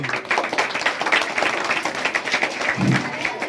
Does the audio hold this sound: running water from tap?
no